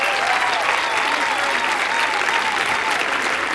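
Sustained loud applause from a Science Slam audience in Karlsruhe for winner Kai Jäger, dense steady clapping from a large crowd throughout, with a faint voice underneath.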